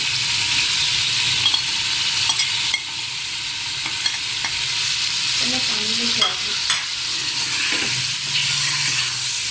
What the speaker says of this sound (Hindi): इसे 2 मिनट के लिए हम भूनेंगे।